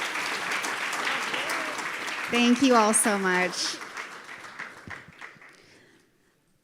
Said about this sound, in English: Please give this panel a round of applause.